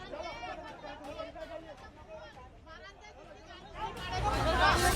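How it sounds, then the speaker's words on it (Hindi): A crowd gathered in a town street in Burhanpur, Madhya Pradesh, amid a commotion with stone-throwing, heard as overlapping excited voices and shouting that swell louder near the end, with a rumble building underneath. "गली में भीड़ जमा है और जमकर हंगामा मचा है।"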